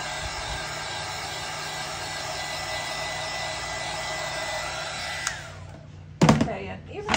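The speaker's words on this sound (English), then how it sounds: "Give this a little spritz again here with our heat gun." A heat gun blows steadily on an epoxy-coated tumbler, a loud, even airy roar lasting about six seconds before cutting off, followed by a brief clatter of handling noise at the end.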